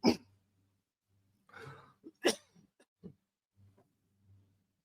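A person coughs after a cough drop went down wrong: a sharp hack at the start, a second burst, then smaller throat catches and breaths spaced through otherwise quiet, close-up sound.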